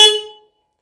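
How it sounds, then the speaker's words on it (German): The horn on a Moto Guzzi V85 TT motorcycle gives a single short, loud honk close by, its bright tone fading away within half a second into silence. "und hier unten die Hupe."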